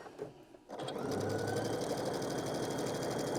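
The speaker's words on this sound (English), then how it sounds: "you'd be chain stitching some of them together" A sewing machine chain stitches quilt triangles, starting after a brief quiet moment and then running in a fast, steady, close mechanical rattle with a constant whir.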